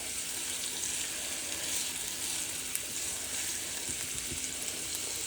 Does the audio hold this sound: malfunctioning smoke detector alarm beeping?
no